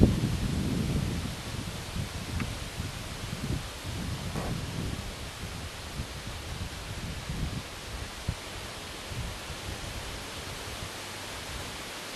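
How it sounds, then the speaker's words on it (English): Heavy wind at an RC flying field rumbles in low gusts, strongest at the start, then eases into a softer, steady hiss with occasional buffets. "Windy down here too."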